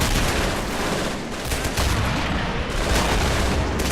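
Artillery fire in the Men of War: Assault Squad 2 war game, a dense, continuous barrage of booming blasts and crackling gunfire with no pauses, loud and close throughout.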